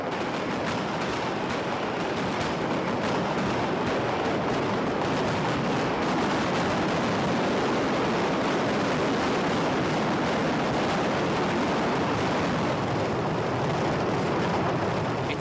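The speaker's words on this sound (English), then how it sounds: "This ear-splitting barrage called the Mascleta is the loudest show on Earth." Mascletà daytime firework barrage, a dense and continuous roar of deafening explosions and rapid cracks with no pauses and no talk.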